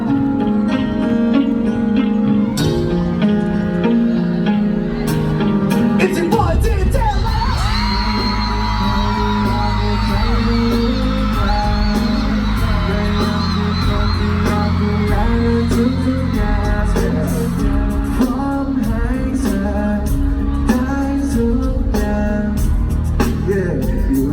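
A concert crowd at a Thai pop show cheers and screams, a dense, loud, continuous roar of shrieks mixed with music that swells after the first few seconds.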